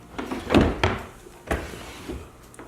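Stuck dresser drawer being tugged, a few sharp wooden knocks and scrapes in irregular bursts, close by, with no talking.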